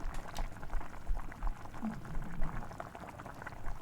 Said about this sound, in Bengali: ফুটছে প্রায় চার পাঁচ মিনিট হয়ে গিয়েছে